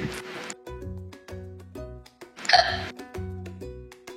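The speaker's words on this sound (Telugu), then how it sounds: "ఎక్కిళ్ళు వస్తున్నాయిగా, తీసుకో." A person hiccups repeatedly in short, close, rhythmic bursts over soft background music, with one louder, sharper hiccup midway.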